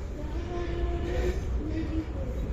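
Riyadh Metro train running, a steady low rumble with faint tonal whine throughout, heard from inside the carriage with mild background noise and no clear talk.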